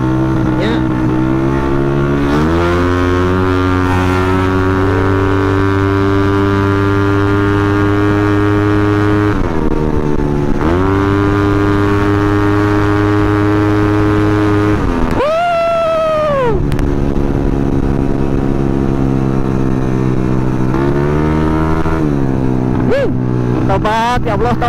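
A Honda Scoopy scooter's engine revs on the road, held at a steady high drone, dropping and climbing again in repeated throttle blips with a sharp rise near the end, loud and close, with a voice talking over it.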